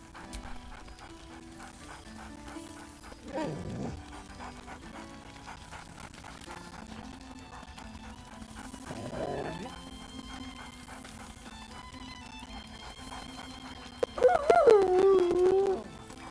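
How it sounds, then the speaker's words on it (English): A dog barks and pants in short bursts over steady background music in a game, with two soft yelps early on and a louder, higher bark-whine near the end. "barks merrily in something like agreement"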